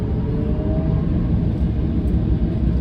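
Interior of a Tesla Cybertruck, an electric pickup, accelerating hard: a loud, steady low rumble of road and wind noise building like a small plane on a runway, with no talking.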